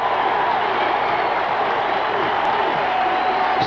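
A sellout crowd of more than 70,000 roars at Memorial Stadium during a 1985 Michigan at Illinois college football game: a loud, dense, steady wash of cheering that fills the whole stretch without a break.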